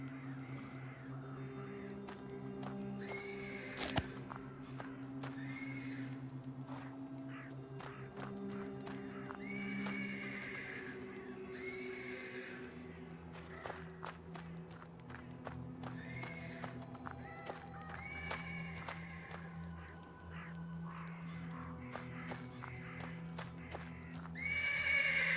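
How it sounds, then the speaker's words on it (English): A horse in a dark RPG video game neighs repeatedly from a stable, several whinnies spread across the scene with soft hoof clops and ambient game sounds, no speech. "The persistent neighing of a horse can be heard from the stables."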